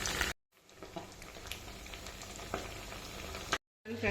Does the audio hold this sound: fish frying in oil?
yes